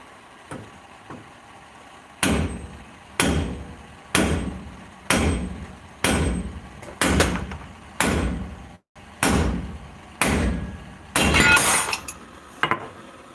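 A ten-pound sledgehammer smacks a metal part repeatedly, about ten loud, sharp blows spaced roughly a second apart, each ringing briefly, with no talking.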